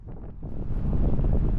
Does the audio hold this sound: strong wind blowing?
yes